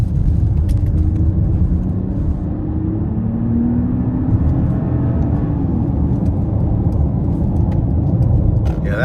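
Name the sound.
Mercedes-Benz GLE 450 Coupe accelerating at full throttle in sport mode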